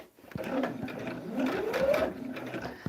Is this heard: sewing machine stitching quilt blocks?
yes